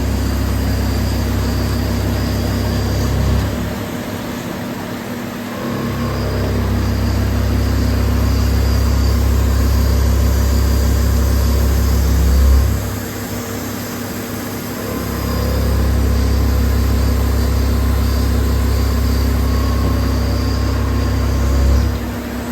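A milling cutter machines a keyway in a crankshaft, a loud steady low machine drone that swells and eases several times as the cut loads and backs off, with no voices.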